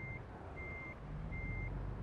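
Reversing beeps from a truck in a truck driving video game, three evenly spaced steady tones over a low engine rumble, faint and without talk.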